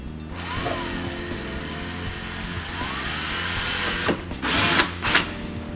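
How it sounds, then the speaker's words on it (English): A power drill bores holes into plastic while a car PA system is being installed, giving a steady whirring drone that rises into louder, harsher bursts of cutting near the end. "with a drill bit the same size as the bolt you're going to use to mount it, those little spots we made, we are actually going to drill them out"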